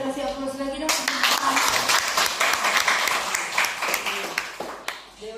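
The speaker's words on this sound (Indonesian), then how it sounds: "Kita kasih aplaus lagi dong." Audience applause at an Indonesian press council event, a sustained dense clapping from a crowd filling most of the clip after a short spoken lead-in, with talk over it.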